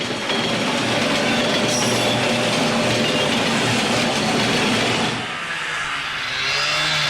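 A train rumbles past loudly and steadily with dense rattling wheel noise, easing off near the end as it moves away.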